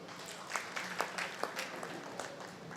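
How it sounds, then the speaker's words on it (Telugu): An audience at a folk dance performance in an auditorium claps for someone invited onto the stage, giving brief, moderate applause with distinct hand claps over a few seconds. "చప్పట్ల వారికి."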